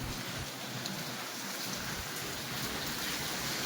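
Steady monsoon rain falls outdoors, a continuous faint hiss of drops with no voices and no clear thunder.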